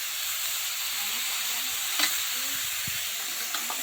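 Mustard paste and chili powder fry in a pan, a soft continuous sizzle and hiss with a few faint stirring clicks and scrapes, heard close and quiet with no talk.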